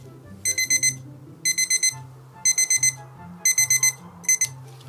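Turquoise alarm clock ringing loudly up close in a bedroom, five bursts of rapid shrill beeping separated by short pauses, no speech.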